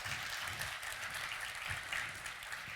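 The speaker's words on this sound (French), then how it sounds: "Tony mérite les applaudissements" An audience applauds in a meeting hall, a steady wash of distant clapping at low volume that keeps going without a break.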